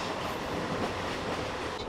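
A super local train speeds along the Barddhaman–Howrah chord line at close to 100 km/h, a dense, even rumble and rattle heard from inside the coach, loud and unbroken.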